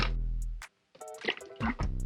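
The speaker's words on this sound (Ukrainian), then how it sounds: "Зараз через сито наливаємо цей лак" Car lacquer poured through a sieve before spraying a car bonnet, giving a thin liquid trickle and soft drips with a brief pause, fairly close and quiet, with no voices.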